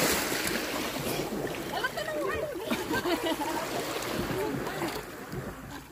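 A small wooden bangka carrying passengers on the sea off Maasin island in the Philippines, its steady wash and motor rumble running throughout while people talk over it nearby.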